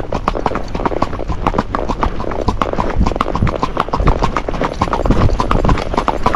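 A ridden Tennessee Walking Horse in its racking gait gives a fast, even run of close, loud hoof clops that carries through without a break.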